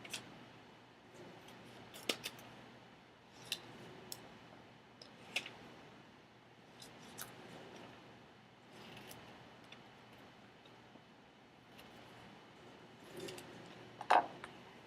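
Scissors cutting small paper squares for a foldable, heard as quiet, spaced snips and clicks every second or so over a low room hum, with a slightly louder rustle near the end.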